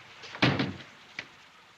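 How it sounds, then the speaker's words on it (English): A door in a house is pulled shut with a firm thump, followed by a softer second knock as it settles, heard close and alone in a quiet room. "shut the door"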